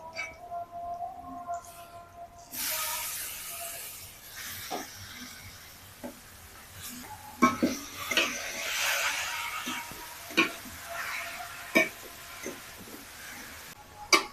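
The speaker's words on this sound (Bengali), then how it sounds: "এবার আমি গাজর আর বিটটা দিয়ে দিচ্ছি" Carrot and beetroot go into a hot pan and fry for vegetable chops, starting a broad, steady hiss of sizzling that continues, punctuated by sharp clicks and taps of stirring.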